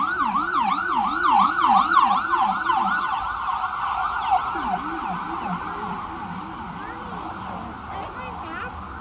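A wailing ambulance siren on a mountain road near Gatlinburg, Tennessee sweeps up and down repeatedly, loud and close at first, then gradually fading as it moves away over steady road noise.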